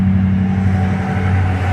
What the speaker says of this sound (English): Oh, the traffic is loud.